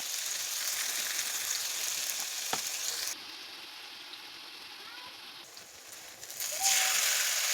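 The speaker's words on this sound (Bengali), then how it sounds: "এর মধ্যে আমি পেঁয়াজগুলো দিয়ে নাড়াচাড়া করে নিচ্ছি।" Onions fry in hot oil in a pan for a soybean and potato curry, a steady close sizzle with the hiss dropping and rising again as they are stirred, with no talk over it.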